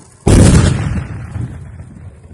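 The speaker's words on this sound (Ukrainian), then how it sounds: "Зараз відбудеться підрив." A single sudden, loud blast erupts as police bomb technicians detonate a drone in Dnipropetrovsk region, Ukraine, then a heavy rumbling boom slowly fades away over a couple of seconds.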